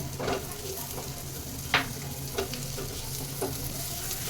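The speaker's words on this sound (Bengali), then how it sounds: "এবার এই চার পাঁচ কোয়া রসুন আর অল্প আদা দিয়ে এটা একটু ভেজে নেবো হালকা" Garlic cloves, ginger, chopped onion and green chillies fry in a pan with a steady close hiss, broken by a few sharp stirring scrapes and clicks.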